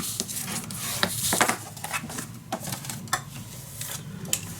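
Paper for a handmade mini album being burnished flat by hand, a dry rubbing and scraping that comes in short repeated strokes, close and fairly quiet with no talking.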